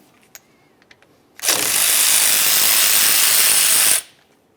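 A power ratchet runs on the 13mm caliper slider mounting bolts of a 2005-2010 Dodge Dakota front brake: after a few light clicks comes one loud, continuous whirring burst of about two and a half seconds, close by, then stops abruptly.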